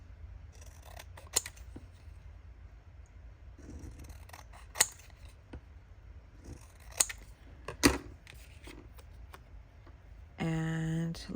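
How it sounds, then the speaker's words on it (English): Scissors snip the edges off vintage paper photo tags in a few sharp, separate cuts, close and fairly quiet, with a brief tonal beep near the end. "So let's cut off the edges first, and then we'll go from there."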